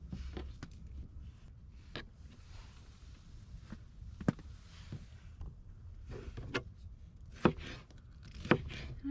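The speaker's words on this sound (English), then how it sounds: "I just like to cut them into nice thin strips." A knife slices food into thin strips at a camp kitchen prep area, irregular sharp taps on a board, some louder strikes, against a quiet outdoor background.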